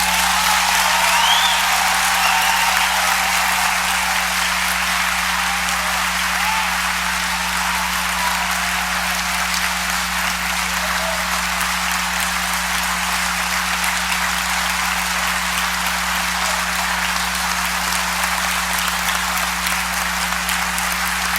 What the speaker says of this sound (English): I want you to give me a good clap